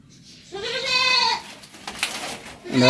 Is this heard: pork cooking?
no